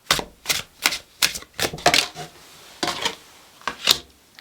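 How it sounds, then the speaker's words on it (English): Tarot cards shuffled in a series of crisp, rapid riffling bursts, each about a third of a second long, repeating roughly every half second, close and fairly loud with no talk over them. "A lot of that shuffling, and it came out anyway, and it came out in reverse."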